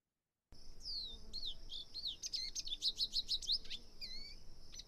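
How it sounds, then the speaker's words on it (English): A lesser goldfinch sings a fast, twittering song of rising and falling chirps, building into a rapid run of repeated notes before trailing off, clear and close against a quiet background. "Here's a lesser goldfinch song."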